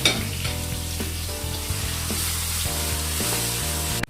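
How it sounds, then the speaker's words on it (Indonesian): Ground spice paste for beef rendang sizzles and fries in oil in a pan, a steady close hiss lying under a louder stepped background melody throughout the short stretch. "Kita tumis sampai matang dan wangi ya."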